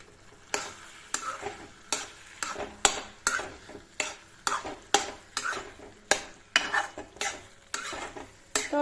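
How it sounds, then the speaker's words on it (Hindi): A spoon stirring vegetable curry with added sugar and amchur in a cooking pan, steady rhythmic scrapes and clinks about once per second under a soft sizzle, close and alone. "थोड़ी देर मतलब 5-10 मिनट के लिए आपने ऐसे चलाते हुए पका लेनी है सब्जी"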